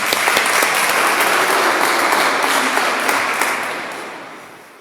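A church congregation breaks into loud, sustained applause that fills the hall, dense and steady before slowly tapering off at the end; no voices stand out above the clapping.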